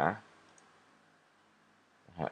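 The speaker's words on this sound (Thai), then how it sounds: "คลิกเพื่อเอาค่ามานะครับ คลิก ที่นี่" Two sharp computer mouse clicks, one at the start and one near the end, with near silence between them.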